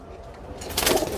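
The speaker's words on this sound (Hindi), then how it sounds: "ये बड़े कबूतर हैं सारे, जोड़े लगे हुए।" Large pigeons kept in breeding pairs in a loft coo briefly, the soft calls swelling toward the end of a short stretch over a steady low background.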